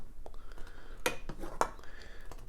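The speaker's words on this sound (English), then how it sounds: "just go ahead and get our ladle and mix it up" A metal ladle stirring chai in a saucepan just off the heat, giving a few sharp clinks and scrapes against the pan over a faint background, with soft speech nearby.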